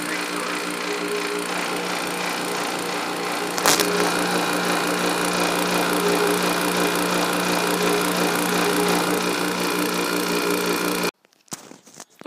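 Vacuum pump pulling a vacuum on a window air conditioner during repair; a loud, steady mechanical drone with a rattling hum runs continuously, with a brief knock partway through before it cuts off abruptly near the end.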